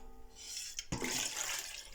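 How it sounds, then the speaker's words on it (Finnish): Cold water poured into a container, a brief rush of splashing liquid starting abruptly after a short quiet pause, faint and close. "mä laitan nyt sitä kylmää vettä tänne 3 litraa"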